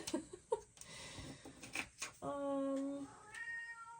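A house cat meows indoors, a drawn-out, wavering cry in the second half following softer shuffling and brief vocal sounds, close to the microphone and fairly loud.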